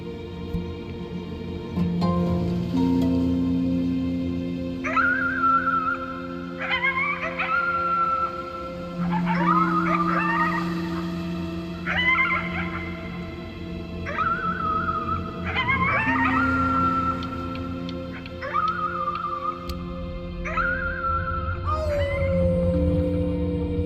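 Long, drawn-out howls repeat at steady intervals, rising and falling in pitch, over a sustained low tone as a child howls at the moon in the video game Before Your Eyes.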